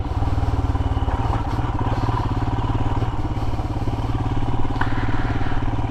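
A Royal Enfield Himalayan motorcycle rides off-road on a green lane, its single-cylinder engine thumping in a fast, steady pulse close by, with light clatter from the rough ground and no talk.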